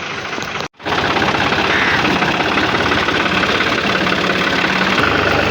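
A tractor engine runs steadily on a muddy farm track, a loud continuous idling rumble with knocking vibration that cuts out for a split second near the start and then carries on unbroken.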